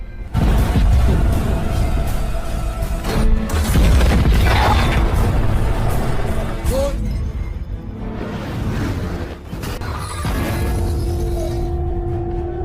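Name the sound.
tank cannon firing, Panzer shooting a Soviet T-34 tank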